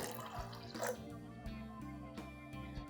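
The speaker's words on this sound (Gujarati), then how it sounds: "હજી ઉપરથી હું અડધો ગ્લાસ પાણી એડ કરું છું" Water splashes and trickles into a metal pressure cooker in short pours, with faint drips and clinks, close by and moderately loud.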